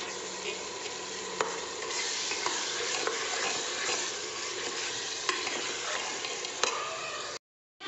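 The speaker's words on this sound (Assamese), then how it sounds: "এইফালে ঢাকোন লগাই মাংসখিনি ভাজি আছোঁ" Goat meat and potatoes fry in oil in a pressure cooker with its lid on. A loud, continuous sizzle carries a few sharp clicks from stirring, then the sound cuts out abruptly near the end.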